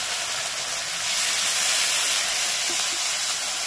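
Onion, ginger and garlic paste fries in hot oil, a loud, bright, continuous hiss and sizzle close by with no pauses.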